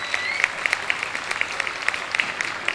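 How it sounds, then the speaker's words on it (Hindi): Audience at a school alumni meet gives scattered applause, with sharp distinct claps standing out over a moderate crowd background. "मैं चाहूँगा उसके लिए एक बार जोरदार ताली हो जाए।"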